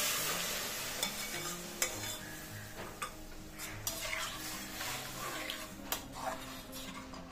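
Quiet simmering sizzle as lentils are stirred into fried tomatoes in a pot, with a spoon scraping and clicking against the pot every second or so; soft and close, with background music.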